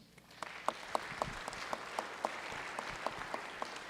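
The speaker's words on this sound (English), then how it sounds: "a round of applause for them" Applause in a state House chamber for Waianae High School students, a faint, steady crowd patter with a distinct nearby clapper beating out regular sharp claps throughout.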